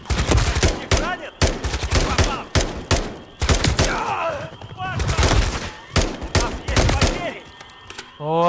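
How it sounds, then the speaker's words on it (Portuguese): Bursts of automatic gunfire and explosions fill a Call of Duty: Modern Warfare III campaign battle, loud and repeated in rapid clusters, with voices talking between the volleys. "Nossa, muito tiro."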